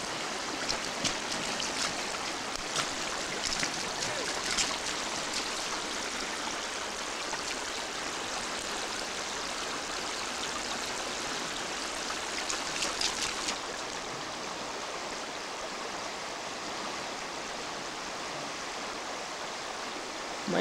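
Steady rushing water of a salmon creek in Sitka, Alaska, a broad, continuous wash that is close and fairly loud. It holds even throughout and eases slightly in level near the end.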